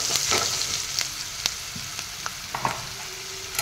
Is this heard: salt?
yes